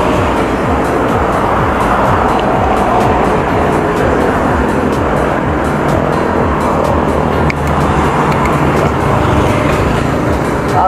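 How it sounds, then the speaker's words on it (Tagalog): Car traffic rumbles steadily and continuously on a busy road in Cavite, between Imus and Las Piñas, with engine noise close by and no speech. "Wow, traffic."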